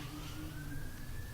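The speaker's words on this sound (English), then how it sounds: "Fuck these sirens." Emergency vehicle sirens heard outside during a discussion of E3 2018: a sustained, slowly rising wail at moderate distance over a low traffic rumble, lasting only a moment.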